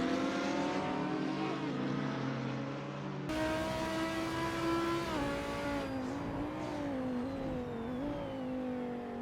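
Audi and BMW GT3 race cars battle in close company at Spa in the Assetto Corsa racing game, engines droning loudly and continuously, pitch shifting with gear changes and rising and falling revs.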